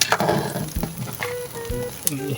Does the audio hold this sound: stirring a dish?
yes